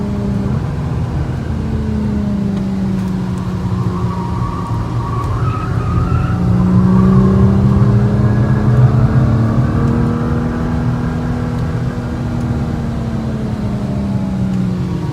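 Engine noise from inside a moving Nissan GT-R Premium rises and falls as it accelerates, with sweeping pitch changes from passing vehicles and steady road roar throughout.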